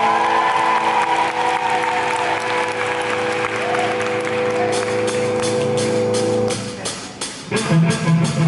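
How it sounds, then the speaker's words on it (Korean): Concert audience at a show in a cultural hall in Jung-gu, Ulsan, applauding steadily at full volume throughout, with sustained band tones lingering underneath and the clapping thinning into a new musical passage near the end. "박수 한번 주세요."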